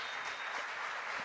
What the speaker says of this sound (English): Let them clap.